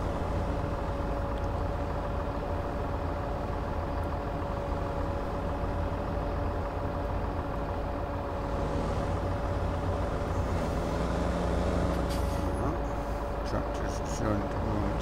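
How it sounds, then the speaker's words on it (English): A tractor engine runs with a steady, even drone during roadside hedge cutting, continuous throughout at moderate distance, with faint voices now and then. "Tractor's showing to go on its own accord now."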